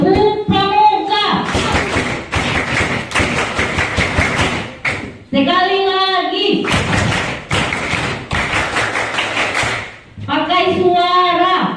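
A group of scouts at a camp opening ceremony performs the rhythmic Tepuk Pramuka clap, two long runs of loud, fast patterned claps separated by a leader's spoken prompts.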